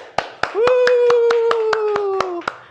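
Year 1 pupils in a live school maths class clap in a steady, even rhythm, about ten sharp claps spaced evenly, while a single held voice tone sounds through the middle.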